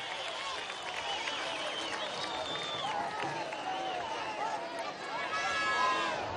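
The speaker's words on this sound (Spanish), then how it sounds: "Un aplauso a los motorizados de la revolución." A large street march crowd applauds motorcyclists, with a broad wash of clapping and cheering under a loud voice carrying over a public address, whistles and shouts rising toward the end.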